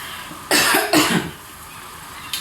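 Two harsh, close coughs in quick succession, followed by a short quiet pause and a faint start of another at the end.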